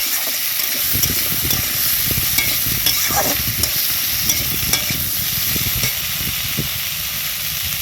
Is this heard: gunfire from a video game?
no